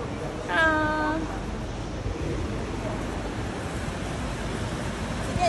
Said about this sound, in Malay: Sini aja nak dengar air.